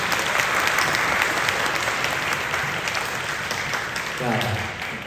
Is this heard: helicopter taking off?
no